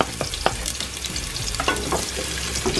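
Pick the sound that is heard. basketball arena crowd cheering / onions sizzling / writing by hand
onions sizzling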